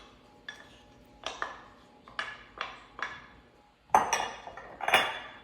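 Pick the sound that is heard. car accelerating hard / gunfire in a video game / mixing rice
mixing rice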